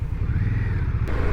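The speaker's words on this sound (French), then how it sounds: "une petite accélération pour voir aussi" An Indian Scout Bobber motorcycle engine throbs with a deep, lumpy low rumble close by, holding a steady loping beat as the throttle opens slightly.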